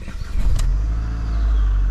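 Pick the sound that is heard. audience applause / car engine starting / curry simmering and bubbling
car engine starting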